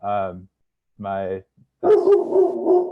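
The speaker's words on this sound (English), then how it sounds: "That's my dog." A pet dog gives two short, loud barks close by, then a voice talks while more yelping sounds continue underneath.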